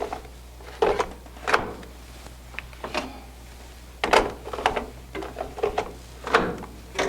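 Ink cartridges are pressed one after another into an Epson F2000 printer, giving a series of close, sharp plastic clicks and snaps at irregular intervals over a low steady hum.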